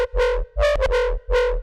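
A sine FM bass synth patch run through distortion plays four loud, sustained, gritty notes in a choppy rhythm with short gaps between them, upfront and dry with no other sound.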